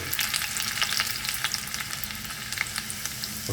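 Chana dal and urad dal fry in hot mustard oil, giving a dense crackling sizzle with rapid tiny pops throughout, steady and close, with no talking over it.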